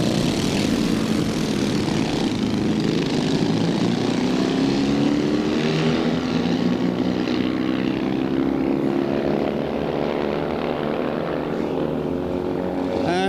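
Twin Norton drag racing motorcycle, Super Cyclops, staging at a drag strip alongside another bike, its engine a loud continuous roar with a steady pitch that shifts slightly over time, with faint commentary underneath.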